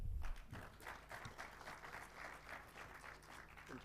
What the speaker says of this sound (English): A better round of applause for JJ for that very lucid and incisive presentation